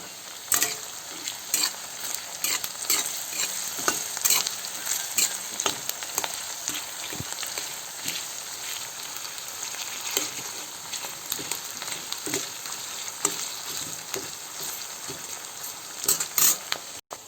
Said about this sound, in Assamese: এইটো ভাজি ল'ম অকণমান টাইম